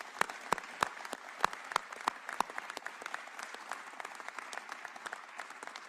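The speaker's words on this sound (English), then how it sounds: "let's give them a warm round of applause" Civilians in an audience clap at a U.S. Air Force event marking Truax Field in Madison as the F-35 site for the 115th Fighter Wing: steady, fairly faint applause of many hands with a few sharp louder claps near the start.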